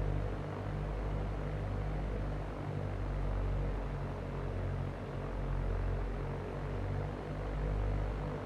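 A light propeller plane's engine in the X-Plane 11 flight simulator, droning steadily with a deep, even hum and throb that fills the cabin throughout, with no talking.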